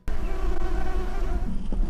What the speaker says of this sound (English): You hear the buzzing?